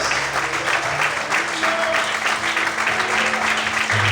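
Loud, sustained applause from a large church congregation during a sermon, steady clapping filling the whole stretch without a break.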